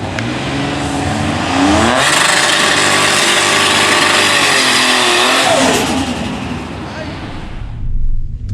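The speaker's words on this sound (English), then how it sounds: "we're running the Buick Grand National, and he's got his full slicks on" Buick Grand National on full drag slicks and a Tesla launch side by side at a drag strip, a loud sustained engine roar and acceleration building then fading as the cars pull away, with crowd talk in the background.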